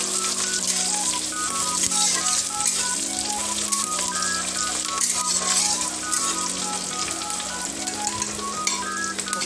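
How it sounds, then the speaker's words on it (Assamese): Onions sizzle steadily in hot oil in a home kitchen pan, a continuous bright crackle heard up close, with a melodic tune of background music playing throughout. "এতিয়া পিঁয়াজ ভাজিছোঁ।"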